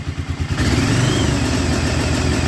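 An Arctic Cat Bearcat 454 snowmobile engine runs rough, pulsing unevenly at first, then settling into a loud, steady mid-pitched drone with rattly clatter that sags and falters as it cuts out.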